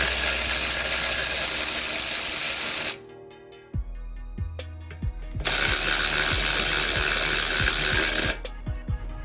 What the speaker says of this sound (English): You could take them out with an electric ratchet.